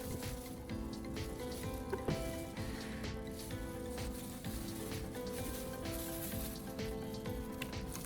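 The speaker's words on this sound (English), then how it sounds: "I'm draining the toothpaste solution." A cloudy toothpaste cleaning solution drains out of an old battery, pouring in a continuous liquid stream with splashy trickling that stays steady and fairly close throughout.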